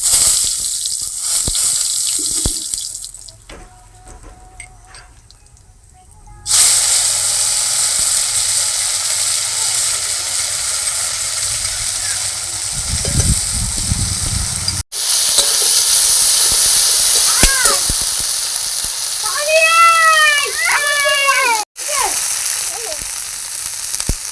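Green chili, dried chili and cumin hit hot oil in a kadai and give a loud, continuous sizzle and hiss that briefly dips and then surges again.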